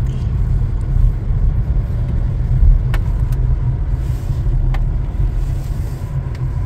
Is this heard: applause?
no